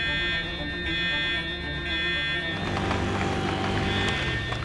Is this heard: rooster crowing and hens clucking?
no